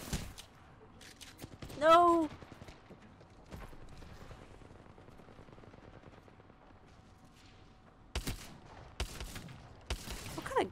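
Gunfire from the battle royale game Apex Legends: scattered shots and bursts mixed into game noise, with a louder tonal burst near the start and sharp broadband cracks clustered toward the end, while a voice shouts briefly over it.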